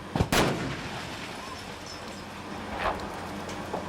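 A miniature set blown up for a 1996 film shoot: a sharp, loud blast at the start followed by a rumbling low roar, with a smaller burst near three seconds.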